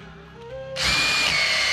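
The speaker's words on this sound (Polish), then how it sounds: "Na chwilę zobaczymy wiertareczko." A power drill starts up partway through and bores into a cheap anti-theft lock for a motorcycle or bicycle, a loud, steady, close whine after a quiet lead-in.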